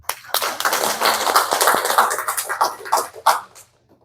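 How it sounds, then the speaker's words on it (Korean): A church congregation applauding during a Wednesday sermon: dense clapping from many hands runs steadily for about three seconds, fairly close and loud, then tapers off quickly into near silence. "그분 여기 안 계시면 박수 한번 쳐주십시다."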